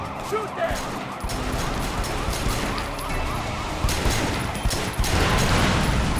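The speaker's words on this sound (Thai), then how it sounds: "ยิงล้อคว่ำกันหมดเลย" Rapid gunfire aimed at car tires in the TriadWars game, bursts of shots over police sirens and engine noise, busy and loud, with a voice talking over it.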